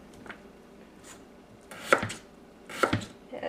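A knife cutting radish into small pieces on a board for Korean kimchi, a few faint taps followed by two loud, close chops about a second apart.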